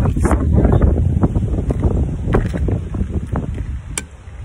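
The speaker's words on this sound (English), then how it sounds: "the wind is blowing" Wind gusting across the microphone outdoors in a park during a walk, a steady low broadband rumble with buffeting that rises and falls throughout.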